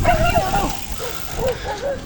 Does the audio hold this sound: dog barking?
yes